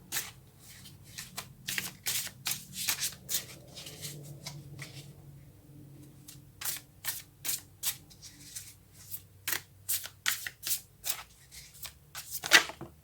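Tarot cards being shuffled by hand in a run of crisp riffling bursts, some in quick rhythmic clusters, close and fairly quiet with brief pauses between, no talking.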